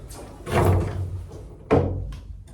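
A door on a 1951 ACC caravan fitted with a gas strut closes twice, each a dull thunk with a short rush of air and rattle, close by and fairly loud.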